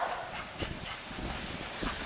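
Shelter dogs in an animal adoption kennel bark and yip in a rapid series of sharp calls, fairly faint and echoing, with several overlapping voices and no talk.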